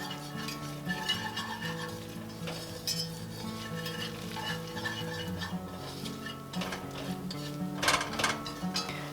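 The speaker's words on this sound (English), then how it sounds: "Grab my whisk here, and I'm going to whisk the butter and the flour and the onion" Butter, flour and onion being whisked together in a pot, a soft steady scraping and rattling of the whisk with faint sizzle, a few sharper clanks near the end, heard beneath continuous background music.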